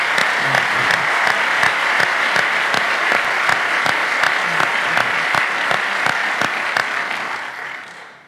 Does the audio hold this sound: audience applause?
yes